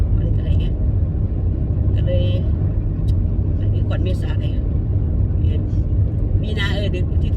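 Car driving along a snowy road in Finland, a steady low engine and tyre rumble heard from inside the vehicle, with occasional faint clicks and light knocks over the continuous drone.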